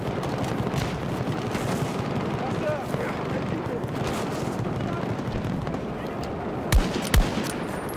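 Battlefield 2042 Conquest battle with continuous gunfire and rumbling combat noise throughout, plus two sharp loud shots near the end.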